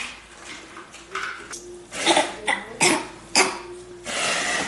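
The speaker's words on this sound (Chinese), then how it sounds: "哥哥咳嗽了是。" A young boy coughs repeatedly after eating too fast, a series of harsh close coughs and throat clearing in irregular bursts with breathing between them.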